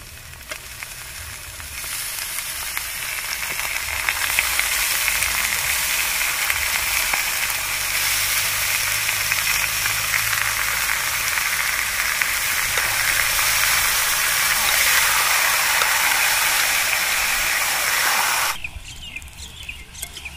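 Chicken meat sizzles in a pan with ginger, garlic and green chillies, a loud, dense hiss that builds and holds for most of the time before suddenly dropping away near the end.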